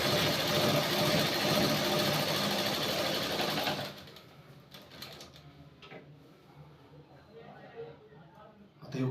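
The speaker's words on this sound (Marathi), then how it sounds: "अशीच कच्ची शिलाई" A sewing machine running a basting stitch on silk fabric hums loudly and steadily for about four seconds, then stops, leaving quiet handling noise and a short burst of stitching at the end, with someone speaking at times.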